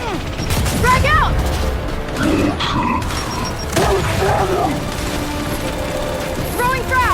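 A frag grenade thrown and bursting amid Gears 5 combat, heard as muffled booms and mechanical clatter under gunfire, with voices shouting over the action.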